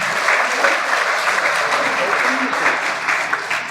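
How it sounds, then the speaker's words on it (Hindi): Loud, steady applause from an audience at a state-level INSPIRE Award ceremony for young student scientists, a dense continuous clatter of many hands that keeps going without a break. "जोरदार तालियां"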